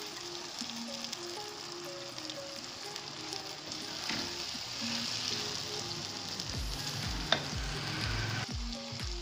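Okra and chicken fry in a pan with a steady broadband sizzle, and stirring scrapes and clinks come through now and then; toward the end a sharp clank and some low knocks stand out.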